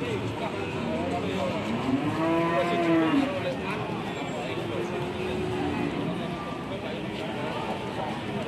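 A cow lowing once at a busy cattle market, a drawn-out moo rising and falling over constant crowd chatter and background noise.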